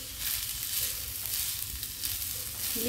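Egg fried rice stirred in a frying pan over very low heat, giving a steady close sizzle with soft scraping and stirring through the whole stretch, with no voices.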